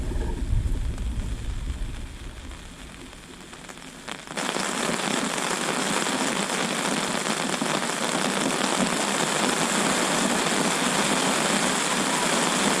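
Steady heavy rain pours down, a dense broadband hiss that swells sharply after a few seconds and then holds loud and constant with no voices.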